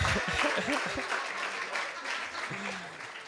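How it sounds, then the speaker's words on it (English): Audience applause at a student union election results announcement, a dense wash of clapping lasting a few seconds, with a voice speaking over the start. "Let's have a massive round of applause for Aaron."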